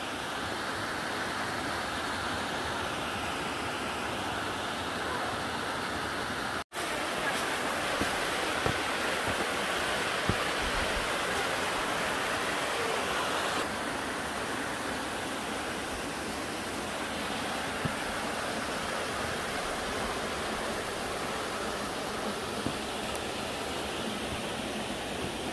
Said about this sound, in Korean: 이렇게 또 폭포 같은 곳이 하나 있네요